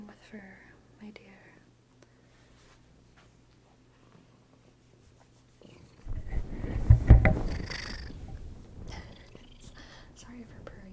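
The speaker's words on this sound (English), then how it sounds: "Sorry if her purring is a little bit loud." A cat purring intensely and loudly close by, a low rumbling that swells up strongly in the second half after quieter whispering early on.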